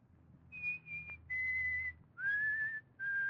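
A person whistles a slow tune of sustained, clear notes, close and alone over a faint background hiss, in a handful of held phrases with brief pauses.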